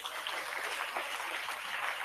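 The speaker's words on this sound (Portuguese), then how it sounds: "Pode aplaudir ao Senhor" Church congregation applauding together after a sermon, a dense, steady wash of clapping at moderate, somewhat distant level with no clear gaps.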